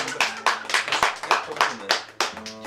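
An audience claps for Maria at a poetry event: about a dozen distinct, fairly close hand claps in a loose, uneven rhythm, with a tonal background sound running beneath them.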